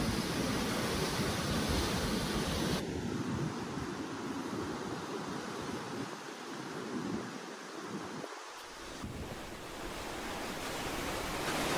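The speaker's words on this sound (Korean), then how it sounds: "출렁다리의 투명 유리로 파도 치는 모습이 매서웁다." Ocean waves surge below a suspension bridge with glass panels in Samcheok, a steady wash of surf and wind noise that stays constant and fairly distant, with no voices.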